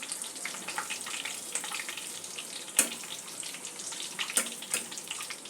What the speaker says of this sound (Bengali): দু পিস একটু হালকা লালচে করে ভেজে নেব।